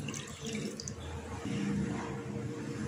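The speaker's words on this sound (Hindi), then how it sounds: "1 गिलास पानी डालूंगी।" Water from a glass poured into a pot holding jaggery for tamarind chutney, a steady continuous splashing and trickling that sounds close and runs through the whole moment with no talking.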